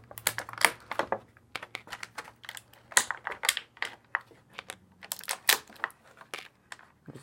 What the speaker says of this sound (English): Let's go ahead and get everything out of the packaging.